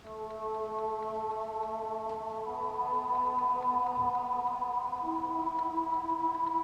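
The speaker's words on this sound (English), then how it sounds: "I created this on my Zebra 2 synth. I created this mad sounding like choir sound" A choir-like pad from a Zebra 2 software synth, treated with echo delay, holds steady layered vowel tones that shift pitch midway and swell slightly louder, sustained alone without any speech.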